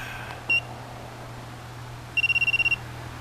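A handheld TPMS diagnostic tool gives a single short electronic beep, then a rapid run of about nine bright beeps, loud and close against a steady low hum, with no talking.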